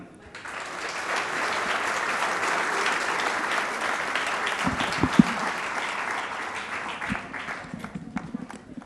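Sustained audience applause fills a large conference hall at a televised conclave, steady and dense for several seconds with a few louder claps near the end as it tapers.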